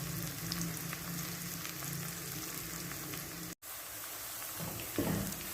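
Onions frying golden in a pan, a dense steady sizzle like light rain held close throughout, briefly cut off for a moment, with a faint stir near the end.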